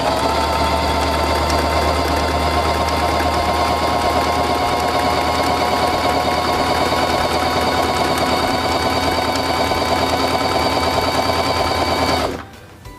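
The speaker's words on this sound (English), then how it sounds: "press the foot control to begin sewing" A Singer Simple 3232 sewing machine runs steadily while stitching a buttonhole, a loud, fast, even mechanical whir and needle chatter that holds for about twelve seconds before stopping abruptly.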